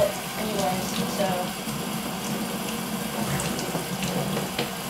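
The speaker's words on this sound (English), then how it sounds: "I guess I'll just put water inside and shake it up a little bit." Tap water runs steadily into a rusty bottle being rinsed out for cleaning, a continuous close splashing flow lasting the whole stretch with no talking.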